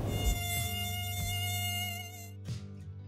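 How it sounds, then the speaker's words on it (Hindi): A mosquito's steady whining buzz fills a Hindi TV serial scene, sustained and fairly close for about two and a half seconds before cutting off, with a brief sharp sound near the end and no speech. "उधर कनक के गाल पर जोर से मच्छर ने काटा"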